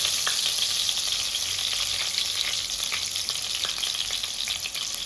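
Potatoes fry in mustard oil, giving a steady, dense hiss of bubbling oil with scattered small pops. The sizzle runs without a break from start to end, and no voice is heard over it.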